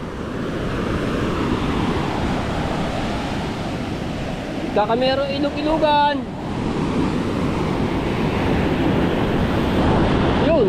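Ocean waves wash in a continuous broadband roar near a shoreline with boats, mixed with wind buffeting the microphone. Voices talk briefly in the middle over the surf.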